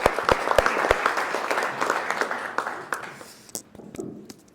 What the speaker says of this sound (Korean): 큰 박수 맞으시기 바랍니다